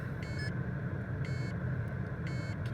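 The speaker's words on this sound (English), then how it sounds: "Keep beeping, it's because I haven't got my seatbelt on." Seatbelt warning chime inside a Lotus Evora S sports car, three evenly spaced bursts of high beeping about a second apart, fairly clear over a steady low cabin hum.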